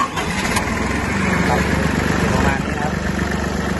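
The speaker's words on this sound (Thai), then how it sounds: "ลองดูเสียงเครื่องยนต์กันนิดหนึ่งครับผม" A small Hinomoto E224 22-horsepower two-axle tractor tiller engine runs steadily and loud close up, a continuous rough chugging drone, with someone talking over it.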